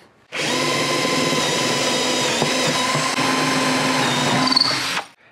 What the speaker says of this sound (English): we're gonna use that same drill bit to drill through this.